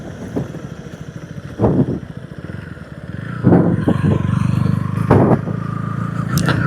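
A KTM Duke 160 motorcycle ridden fast over a bumpy road, its engine droning steadily with rising revs and scraping, rattling bursts from the bumps, loud and close throughout.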